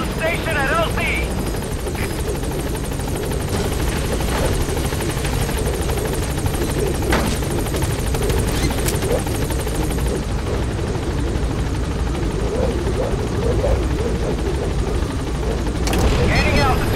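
Support helicopter B-Quad in Metal Gear Solid V approaching a landing zone, a steady loud rotor and engine drone throughout with radio voices and faint game effects over it.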